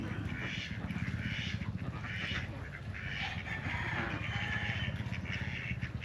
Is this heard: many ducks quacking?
yes